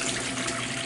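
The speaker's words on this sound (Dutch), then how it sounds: "Maar dan ga ik even koud water invullen." Cold tap water gushes into a bottle from a faucet, a loud, steady close-up stream with a slight rising fill tone throughout.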